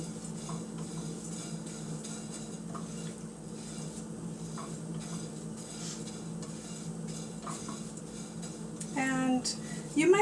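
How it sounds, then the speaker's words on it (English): Walnuts and coconut being stirred as they heat in a dry pan for granola, a steady low scraping and rustle running throughout with faint clinks, growing louder near the end. "you want to be stirring this during those 3 to 5 minutes"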